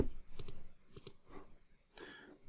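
Quick typing on a computer keyboard while writing code, a few close rapid clicks in small clusters with quiet gaps between, fairly faint.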